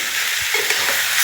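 Beef frying in a hot pan while being stirred, a steady close sizzle with faint scraping movements, no voices.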